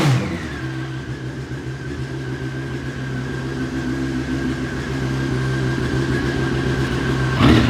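A Honda CBR954RR with a Retro Micron exhaust blips its throttle, then settles into a loud, close, deep-toned idle that slowly swells before a final sharp rev at the end.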